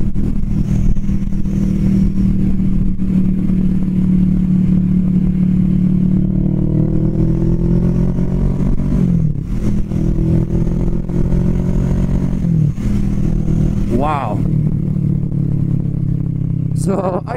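Kawasaki Vulcan S 650 Cafe motorcycle riding along with a smooth, steady engine drone, rising and falling slightly with throttle, loud and close with wind rush.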